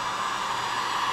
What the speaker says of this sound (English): So basically the heat gun is part of the wrap.